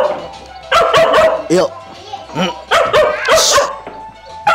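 A dog in a rocky mountain area barks repeatedly in loud, close bursts with some whimpering yips, mixed with people talking nearby.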